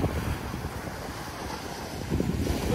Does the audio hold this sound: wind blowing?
yes